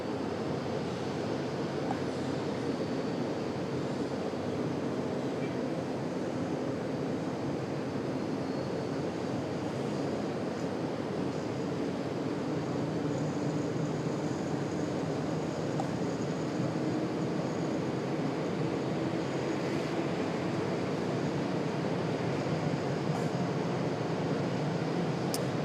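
An airliner rolls for takeoff on runway 23 right at Raleigh-Durham International Airport, a steady, loud broadband engine roar holding evenly throughout with no voices.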